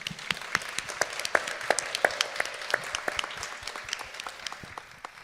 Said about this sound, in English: Can we have another round of applause for our amazing panelists today?